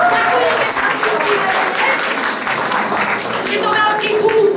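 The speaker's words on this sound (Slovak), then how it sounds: "veľký potlesk" A gallery audience claps throughout at an exhibition opening, dense continuous applause from a nearby crowd, fairly loud and steady, with no voices standing out.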